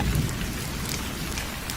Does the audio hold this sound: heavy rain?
yes